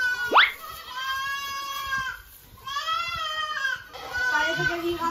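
Sheep on a farm give several long wavering bleats, close and fairly loud, one after another with short pauses, and faint background noise between them.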